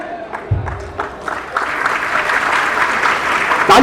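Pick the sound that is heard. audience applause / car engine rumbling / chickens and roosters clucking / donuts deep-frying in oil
audience applause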